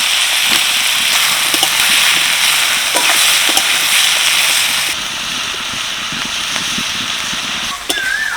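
Onion, capsicum and tomato with salt for masala doi, stirred in a frying pan over a steady loud sizzle with scraping spoon strokes, no voices.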